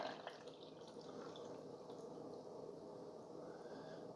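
Water is poured into the reservoir of a Mr Coffee iced and hot single-serve coffee maker, a faint, steady trickling pour with soft drips and no voices.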